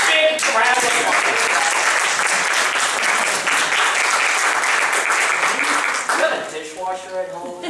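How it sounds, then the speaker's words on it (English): A studio audience breaks into loud, sustained applause that holds steady for several seconds, then fades as a voice resumes talking over the tail end. "give him a big round of applause"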